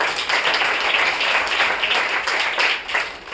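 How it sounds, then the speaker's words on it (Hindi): A room of students and onlookers gives steady, enthusiastic applause for a test result ranking. The clapping is dense and continuous, fairly close, with no talking over it. "इसके बाद थर्ड नंबर रैंक पे है धीरज कुमावत जिसने 30 में से 28 नंबर हासिल किए, जोरदार तालियां।"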